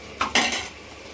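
Cooked rice being mixed with tempering for mango pulihora, heard as two quick close spoon clatters and scrapes against a vessel, then quiet.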